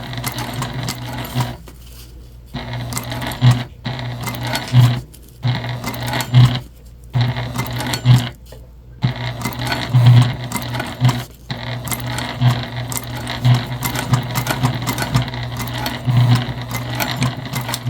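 A sewing machine back stitches the final seam of a convertible bag in loud, close bursts of rapid needle chatter, broken by brief pauses and short mechanical clicks.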